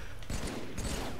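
Gameplay explosions in Halo 3 during a Super Juggernaut custom game: two loud, booming blasts about half a second apart, with crackling debris in a busy game mix, and voices faint underneath.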